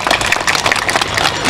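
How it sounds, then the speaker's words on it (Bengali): An audience at a public gathering claps in dense, steady applause, a continuous patter of many hands at fairly close range with no pause. "আমার মনে হয় ওনার জন্য একটু খুব জোর করে হাততালি দেওয়া উচিত"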